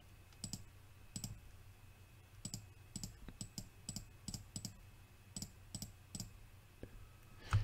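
A computer mouse clicks while an eraser tool is used in Affinity Photo, about fifteen crisp, close single clicks at irregular intervals over quiet background hiss.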